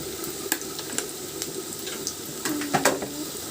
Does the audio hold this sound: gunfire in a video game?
no